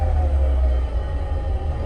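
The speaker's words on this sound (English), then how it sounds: "Low idle." An old Toyota Celica idling low, heard as a steady, close, deep engine rumble that holds evenly throughout with no talking over it.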